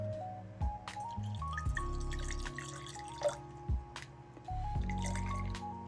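Water poured from a tap into a jar for Monstera and Alocasia plant cuttings, with a rising gurgling pitch as the jar fills, soft drips and splashes, heard close and fairly quiet with no talking.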